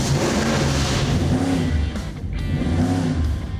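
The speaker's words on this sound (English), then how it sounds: "we have the 427 running on the dyno" A 427ci small block V8 runs on an engine dyno, its loud, steady low rumble rising and falling through a couple of short revs, alone with no talk.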